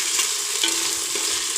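Onions fry in a pan for biryani, giving a steady, close, loud sizzle with faint stirring, and no voice is heard.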